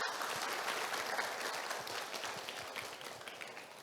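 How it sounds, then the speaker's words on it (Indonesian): Audience applause fills a university guest lecture hall steadily, dense clapping from many hands that slowly tapers in level toward the end. "Untuk itu tepuk tangan untuk kita semua."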